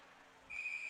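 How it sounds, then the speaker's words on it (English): Midway through, a referee's whistle gives a single shrill, sustained blast at a women's college ice hockey game, rising above a faint arena murmur. "whistle blown as the ref's hand is up"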